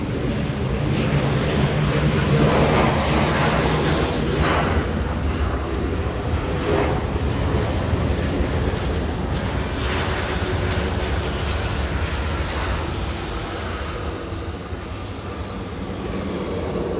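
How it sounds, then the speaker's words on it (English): A Philippine Airlines Airbus A330, eight years old, lands at Los Angeles International Airport on a gray day. A loud, steady broadband jet roar fills the whole stretch, easing slightly toward the end, with no talking. "Philippine Airlines 112. This A330, 8 years of age, landing in a very gray Wednesday."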